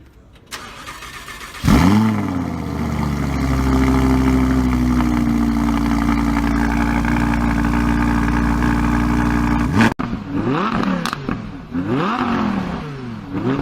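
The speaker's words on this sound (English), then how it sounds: "we have the naturally aspirated V10 602 horsepower engine" A 602-horsepower naturally aspirated V10 in a 2018 Audi R8 V10 Plus starts with a sharp bark, settles into a loud steady idle, then revs in several quick rising and falling bursts, close and with no talking.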